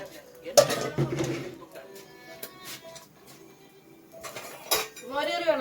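Plates and cutlery clatter while food is served at home in a Kerala village kitchen, with sharp clinks and scrapes near at hand early and again later, under and between people talking.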